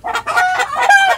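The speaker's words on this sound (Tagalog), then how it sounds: "Yan na manok na yan, idol." A large chicken, soon to be grilled, clucks in a few quick repeated bursts close by at a rural hut, loud and without any talk over it.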